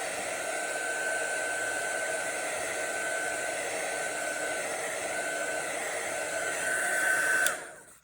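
A hair dryer blows steadily on an art journal page, with a constant close whoosh and whine for several seconds before it switches off and winds down.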